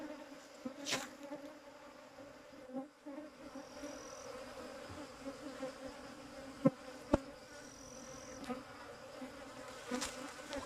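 Honey bees swarm around an opened hive during a fifth-month honey harvest, the first hive of the year, producing a quiet, continuous buzzing hum with a few faint clicks and taps from the work.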